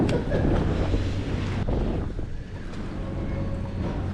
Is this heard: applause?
no